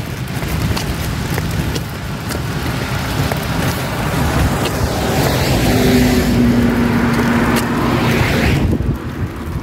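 A bus climbs uphill on a road on Pantovčak in Zagreb, a steady low engine drone under wind buffeting the microphone, with a rising whine building near the end.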